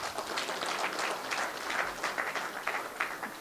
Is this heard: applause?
yes